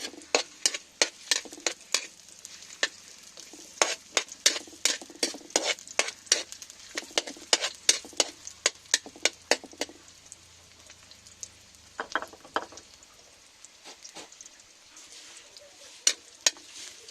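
Garlic and onion frying in a pan for a provincial vegetable dish, with sharp spatula scrapes and taps in a steady irregular rhythm over a faint sizzle, close and fairly quiet, no talking.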